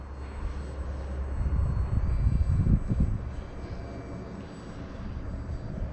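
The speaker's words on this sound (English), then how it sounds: "Man, it's just so easy to fly this plane." An RC Carbon Cub S2 model airplane flying overhead at about half throttle, its electric motor giving a steady buzzing drone that swells as it passes closer and then eases off, with no talking.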